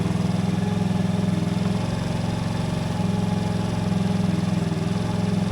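TaoTao GY6 scooter engine idling steadily after starting, a low, even throbbing pulse that stays close and constant with no talk over it.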